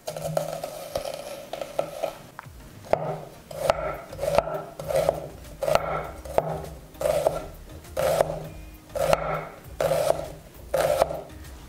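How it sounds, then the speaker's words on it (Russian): Half a red onion being finely diced with a knife on a cutting board, a steady series of crisp chopping taps at an even rhythm, close and moderately loud with no speech. "Нарезаем мелким кубиком."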